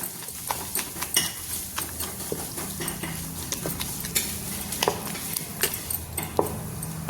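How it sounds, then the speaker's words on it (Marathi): Chakwat greens with besan flour are stirred and beaten with a wooden churner. Repeated soft scraping and irregular knocks and taps come at a moderate level, with a faint sizzle beneath and no voices. "आता 1 टेबलस्पून बेसन पीठ टाकून ही भाजी छान हटवून घ्यायची रवीने"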